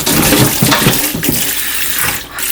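Small ponytail radishes (chonggak or dallang radish) are rinsed under running tap water. The water gushes loud and close, with splashing and handling through the whole stretch.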